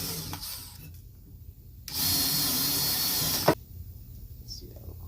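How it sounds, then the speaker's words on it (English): Power drill driving a screw into the end plate of a fume hood's window, one loud close whirring burst of about a second and a half, ending in a sharp catch, with quiet handling before and after. "I'll just be screwing these screws in to this end plate here for the window"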